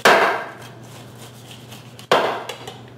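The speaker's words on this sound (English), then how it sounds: "right now I have to peel the pineapple by peeling all the way down" A large chef's knife cuts into a whole pineapple, giving two sharp crunching chops about two seconds apart, each fading quickly into a quiet background hum.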